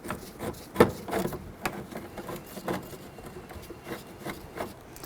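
Screws being snugged down on a 1999-2004 Jeep Grand Cherokee taillight with a hand driver, a close series of soft, irregular clicks and scrapes spread through a few seconds, with a sharper knock near the start and no voices.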